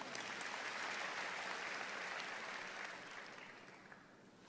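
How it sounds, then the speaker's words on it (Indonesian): A large church congregation applauds loudly and steadily during a sermon, the clapping slowly fading toward the end. "Yang setuju sama saya, berikan tepuk tangan yang meriah."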